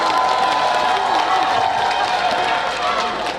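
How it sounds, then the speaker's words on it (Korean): A large outdoor festival crowd in Goryeong claps and cheers in a dense, sustained roar of applause with whoops, loud and continuous from start to finish. "여러분 뜨거운 박수 좀 부탁드릴게요."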